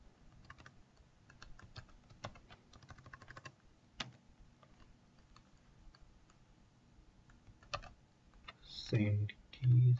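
Rapid clicks from a computer keyboard come in bursts with short pauses, light and close, then a brief voice and a couple of louder thumps near the end.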